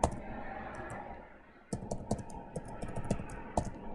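Fingers typing a password on a computer keyboard during a VMware vSphere ESXi 7 install, a quiet scattered series of close key clicks over low background hum.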